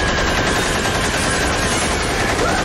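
Sustained machine-gun fire in an animated cartoon, a loud, dense rattle of rapid shots that continues almost unbroken for a few seconds.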